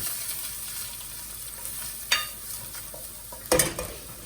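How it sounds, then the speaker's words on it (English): Oil sizzles softly in a pan under a constant hiss as curry powder fries, broken by two sharp scrapes of a utensil stirring against the metal. "all the spices will absorb the oil, but it's frying now"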